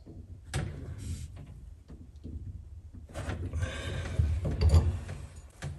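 A wrench works loose the bonnet of a main water shutoff valve, giving quiet metallic scraping, creaks and ratcheting clicks that build in the second half, with no talk.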